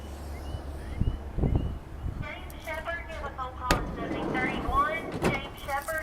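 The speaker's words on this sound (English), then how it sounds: "Let me open up the other side door here." The sliding side door of a 2016 Nissan NV200 SV van opens with a sharp latch clunk followed by rattling, rolling movement, set against a quiet outdoor background.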